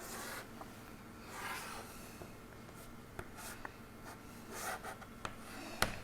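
A pen scratches across paper while a chemical ring structure is drawn, with soft continuous strokes broken by short sharp ticks and taps, close and fairly quiet, with no voice.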